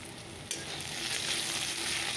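Bitter gourd fries in a pan with a continuous close sizzle that swells slightly after a brief knock and then holds steady and loud.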